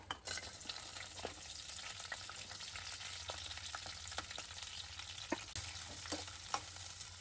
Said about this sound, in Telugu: ఇప్పుడు పచ్చిమిర్చి వేసేసుకుందాం